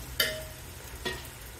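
Food frying in a pan, a steady broadband sizzle with two sharp stirring clicks, close and fairly quiet, no voices.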